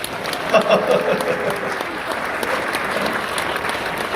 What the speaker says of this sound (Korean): 박수 안 쳐?